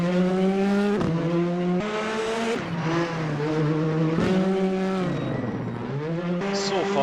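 A rally car drives flat out on a stage in North Wales, its engine roaring and pitch sweeping up and down through gear changes, loud and close, with commentary over it.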